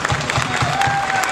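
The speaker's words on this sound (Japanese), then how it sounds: "皆さんもう一度大きな拍手で" Festival crowd applauding for the guest acts at Ikura's American Festival, a dense, steady wash of clapping with some crowd noise and a faint lingering tone, heard up close and without a break.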